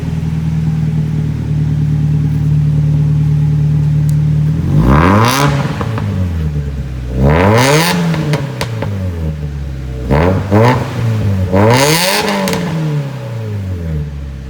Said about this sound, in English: Bit of a cold start. Give it a second.